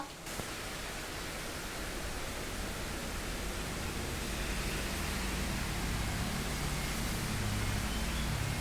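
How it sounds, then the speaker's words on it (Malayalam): Steady, dense rain pours continuously, a broad even hiss that holds at the same level throughout with no voices. "വീണ്ടും മഴ വന്നിട്ടുണ്ട് കേട്ടോ"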